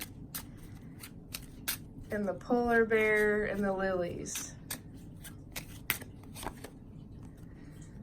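Playing cards drawn one at a time from a deck during a card reading, giving soft papery snaps and flicks, with a quick run of rustling in the middle, under a nearby speaking voice.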